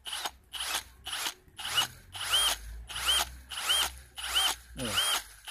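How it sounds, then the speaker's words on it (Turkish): An RTRMAX RTX2014 18V cordless brushless impact drill runs in repeated short bursts with a rapid hammering rattle, the motor revving in nine close, loud pulses separated by brief pauses. "sesi duyuyorsunuz zaten, darbe sesini"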